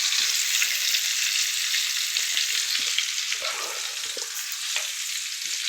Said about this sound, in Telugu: ఎల్లుపాయలు, పచ్చిమిరపకాయలు వేస్తున్నా.